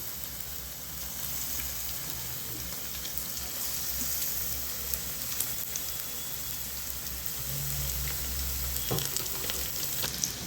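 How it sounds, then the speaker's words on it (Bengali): Chicken pieces frying in hot oil over medium heat in a pan, a steady, fairly soft rain-like sizzle with occasional light stirring clicks, close and continuous throughout. "মিডিয়াম আগুনে এগুলোকে আমি ভাজা করে নেব"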